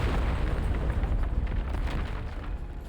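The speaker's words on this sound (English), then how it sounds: "The explosion knocks her off balance." An explosion in the video game Vereinsamt gives a dense, roaring blast of rumbling noise that fills the whole span and slowly fades. No one speaks.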